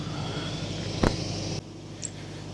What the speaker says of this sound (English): Good grief, that generator is loud